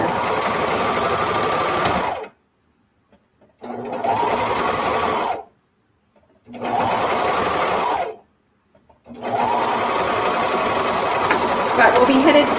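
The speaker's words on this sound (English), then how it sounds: "we'll be headed back to the sewing machine" A sewing machine sewing a swimsuit runs in four steady bursts of a few seconds each, whirring loudly and close, separated by short silent pauses.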